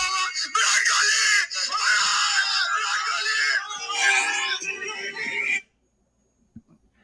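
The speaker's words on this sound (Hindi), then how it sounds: "ये चीख" A high, strained scream plays from a video on a device, sustained for about five seconds with wavering pitch before cutting off abruptly into silence.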